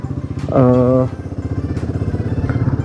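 A Royal Enfield Himalayan 450 motorcycle climbing uphill on a forest road near Kurseong gives a loud, close, pulsing engine throb that rises sharply in a brief rev, then settles back into a steady rhythmic chug.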